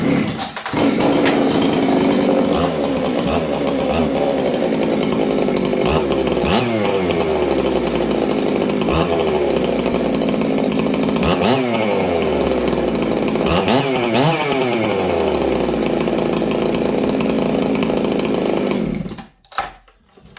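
A chainsaw fitted with new dogs roars close and loud in a workshop after a choke start, holding a steady idle broken by several sharp revving bursts before cutting off abruptly at the end.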